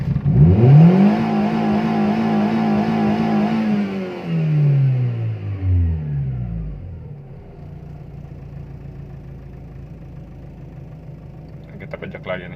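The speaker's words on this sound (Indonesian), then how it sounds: "untuk mengecek akselerasi naiknya RPM dari awal sampai menuju ke titik RPM tertinggi," A Timor DOHC car engine is revved from idle to its highest RPM, the pitch climbing steeply and loudly, then falling away as the throttle is released and settling into a low, steady idle, heard close with no talking.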